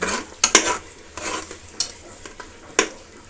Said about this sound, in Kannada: ಚೆನ್ನಾಗಿ ಫ್ರೈ ಆಗಲಿ ಈ ಥರ ಚೆನ್ನಾಗಿ ಫ್ರೈ ಮಾಡಿಕೊಳ್ಳಬೇಕು